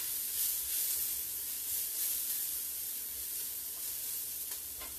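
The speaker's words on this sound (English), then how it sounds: "I'm going to give this a stir over here real quick. I've got some onions sweating over here." Onions sweat in a pan for a marinara sauce, giving a steady, soft sizzle and hiss with faint stirring scrapes, close by and unbroken by talk.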